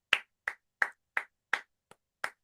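Seven sharp, evenly spaced hand claps ring out close and clear, one softer than the rest, with no talk over them.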